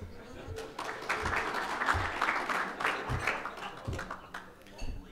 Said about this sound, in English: Please give it up, and a big round of applause for the lovely,